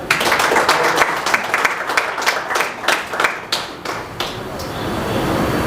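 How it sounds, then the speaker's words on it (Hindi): A theatre audience applauds at the end of a stage play with dense, sustained clapping. It thins into scattered claps and then swells again. "जोरदार तालियां"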